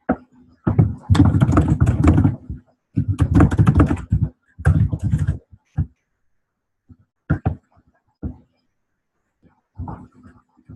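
Computer keyboard typing comes in several dense bursts of clattering keystrokes early on, then thins to a few scattered taps with long silences between them. It is close and fairly loud, with no speech over it.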